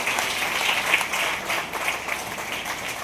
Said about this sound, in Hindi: तो एक बार जोरदार तालियां हो जाए आरसीएम के लिए।